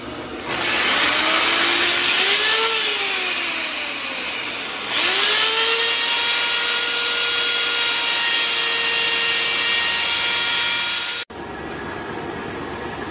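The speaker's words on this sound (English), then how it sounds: "Now I'll just sand it with my orbital sander." An orbital sander whirs against a wooden mouse spinning on a lathe, a loud steady motor whine that rises and dips in pitch twice before cutting off abruptly near the end.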